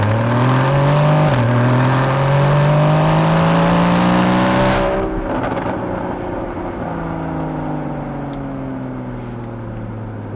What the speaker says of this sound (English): so sports exhaust turned on.